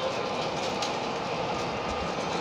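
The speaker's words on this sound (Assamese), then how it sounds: "এতিয়া মেট্ৰ'খন দীঘলকৈ আহে ট্ৰেইনৰ লেখীয়া" A Patna metro train runs close by with a continuous rumbling roar and faint rail clatter, steady and loud throughout.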